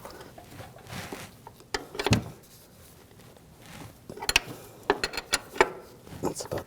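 A ratchet wrench tightens a front upper control arm nut and bolt on a 2006-2009 Audi S4, giving short ratcheting clicks in scattered bursts with pauses, close and moderately loud.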